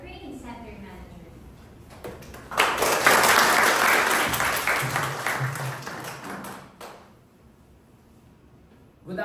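An audience at a group closing ceremony applauds the training center manager: a broad, loud burst of clapping swells up after a spoken introduction, holds for about four seconds, then tapers off, with a voice heard at the start and end.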